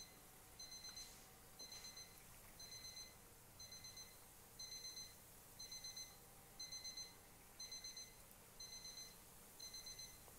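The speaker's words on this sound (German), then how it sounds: "Suche den Wecker" An electronic alarm clock in the video game Stifled beeps in short bursts of rapid pulses, repeating about once a second, faint and steady over a hissy quiet background.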